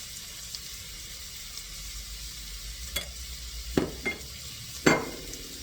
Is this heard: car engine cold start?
no